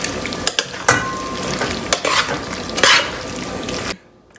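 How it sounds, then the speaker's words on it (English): Tortellini gets stirred in a hot pan, with a spoon scraping and clanking against the metal over a steady sizzle, several sharp knocks standing out before the sound cuts off. "And now I'm gonna go ahead and add the tortellini in here. So now I'm gonna go ahead and mix everything."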